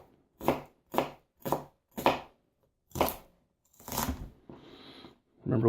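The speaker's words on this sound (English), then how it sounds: "we're just gonna chop off a chunk right there." Knife chops vegetables on a board for pico de gallo: five crisp, evenly spaced cuts, then a couple of longer scraping strokes, close and fairly quiet.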